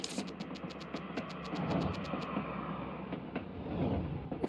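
Train ambience in the video game Little Witch in the Woods: a low, continuous rumble of a moving railway carriage with faint rattles, plus a brief run of quick high ticks near the start.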